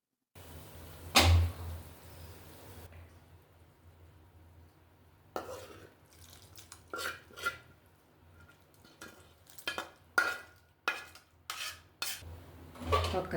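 Metal utensils clank against a pot as a hot tempering is poured into a Nellore-style fish stew and stirred, with a sharp clatter early, a quiet pause, then a series of scraping knocks and taps.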